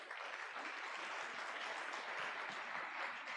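At an international conference on the Safe Schools Declaration, a large indoor audience applauds in a dense, steady wash of clapping that holds even throughout.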